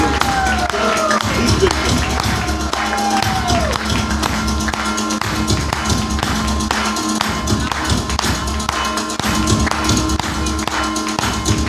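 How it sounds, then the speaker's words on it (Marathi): Loud, sustained applause from a hall audience at an award celebration, steady dense clapping that fills the whole stretch, with a voice briefly heard over it. "तुमच्या जोरदार टाळ्यामध्ये मी अनिलजी मोरे सरांना विनंती करतो"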